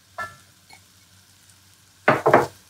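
Tomato pulp, spring onions and sweet potato leaves are sautéed in a crowded pot. A brief scrape comes first, then a quiet gap, then two loud, close bursts of clattering and sizzling near the end, with no talk.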